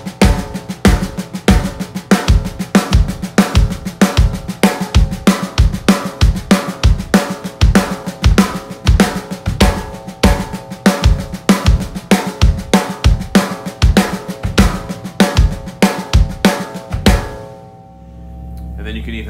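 A drum kit plays a steady, dense groove of accented ghost notes on snare with a shifting kick drum, loud and close, repeating beats for about seventeen seconds before stopping into a faint hum.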